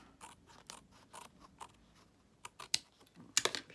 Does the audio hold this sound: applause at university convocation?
no